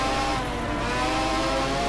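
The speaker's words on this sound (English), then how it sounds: "that's a BMW with the straight 3 litre engine" A BMW with a straight three-litre engine in the racing game GT Legends drones steadily and loudly for the whole stretch, a rich harmonic engine tone with no break.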